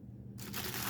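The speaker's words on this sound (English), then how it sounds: "I'm going to add my ice" Ice tumbling into a blender for a peanut butter banana shake, a sudden bright crunchy rattle that starts partway in and continues loudly to the end over a low hum.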